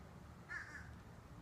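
A crow gives a single short caw at a distance, faint over a low background hum.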